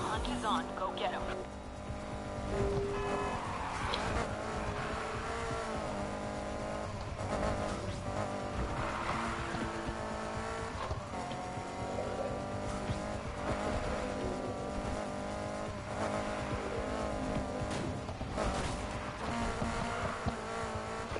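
A BMW M3 in a Need for Speed Heat car chase runs at steady high revs throughout, with engine drone, tire squeal and skidding mixed under game music and talk.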